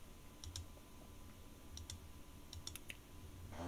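Faint, quiet keystrokes on a computer keyboard come in several short bursts of clicks against a soft background hum.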